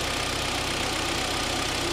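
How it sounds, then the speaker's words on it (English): A 2011 Kia Sorento's 2.4 liter engine idling smoothly up close, a constant even rumble with no other sounds. "Engine's running nice and smooth."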